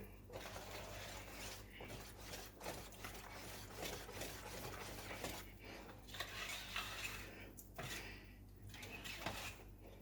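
Sweet potato pudding mix stirred with melted butter in a bowl, a continuous quiet scraping and clicking of utensil against the dish in an irregular rhythm, fairly close and faint.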